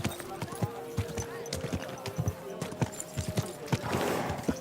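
Horse hooves clopping at a gallop in Kingdom Come: Deliverance II, a quick irregular run of close hoofbeats over a faint steady hum, with speech mixed in.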